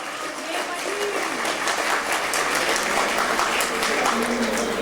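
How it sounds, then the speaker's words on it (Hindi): A crowd at a kavi sammelan poetry gathering at a Jain religious festival applauds steadily, the clapping dense and even throughout, with faint voices and a tonal hum underneath. "एक बार मेरे सम्मान में ढंग से ताली बजाओ"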